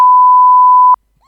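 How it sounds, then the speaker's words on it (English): A single loud, steady censor beep tone holds for just under a second, then cuts off abruptly into near silence. "I'm going to beep it out, I promise, this time."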